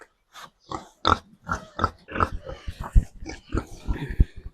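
Pigs grunt and oink in a rapid, irregular series of short snorts, close by in a village farmyard, with no talking.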